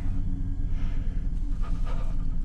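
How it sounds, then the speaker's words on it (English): Heavy, rasping breathing from a character in the horror video game Until Dawn, close and low-pitched, several drawn-out breaths in a row over a rumbling background. "That's some nice heavy breathing you got there"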